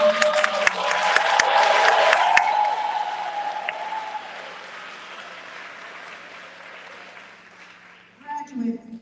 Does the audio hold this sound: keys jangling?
no